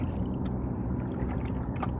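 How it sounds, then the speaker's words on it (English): Kayak paddle strokes through open water near large ships, a steady wash of splashing and gurgling close by with soft rhythmic dips and no voices. "For now, I'm just going to focus on paddling"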